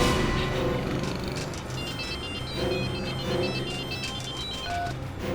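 A telephone rings through a dense, noisy background at a crime scene, with short tonal chirps near the end and no voices.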